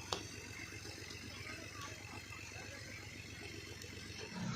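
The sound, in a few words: tractor engine running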